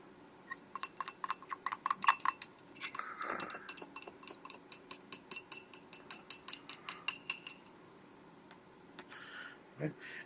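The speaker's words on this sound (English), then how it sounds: "Do your best to grab all of that out, typically using your stir rod." Metal stir rod scraping and tapping solid aspirin out of laboratory glassware, a quick run of close, bright clinks and scrapes that ease into a steady rhythm, with a short low thud near the end.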